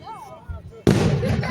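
Fireworks burst loudly at an Israel Independence Day celebration in Ashdod, a sudden crackling blast that fills the air after a voice talks nearby.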